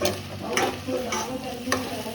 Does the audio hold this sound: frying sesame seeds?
yes